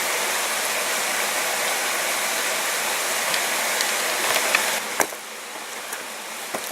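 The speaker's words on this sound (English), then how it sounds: "I hope not the water, the pouring water, gonna be annoying now in the video." Water pours steadily from a stream at an outdoor spot, a continuous broadband rush that stays loud throughout, easing slightly near the end with a few faint clicks.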